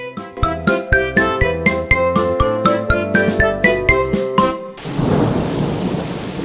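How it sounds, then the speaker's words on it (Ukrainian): A rain-and-thunderstorm sound effect: a steady rush of rain with rumbling thunder swells up and continues to the end, after a rhythmic tinkling passage. "Дощик накрапає, ховайтесь малята під парасольку."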